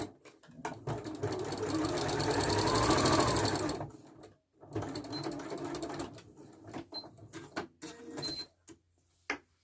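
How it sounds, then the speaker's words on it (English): Sewing machine stitching fabric pieces together across a top edge, a steady loud mechanical whir for several seconds that stops, then resumes in shorter bursts with small clicks and handling noises between runs. "I'm going to take the interior piece that doesn't have the pocket and sew them together across the top edge."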